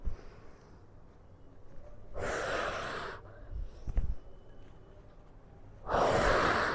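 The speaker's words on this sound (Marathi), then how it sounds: "पुन्हा वरती येताना श्वास घेतला" Heavy breathing during a belly-fat exercise routine: two loud, rushing breaths, each about a second long, stand out close and clear against a quiet background, with a soft thump in between.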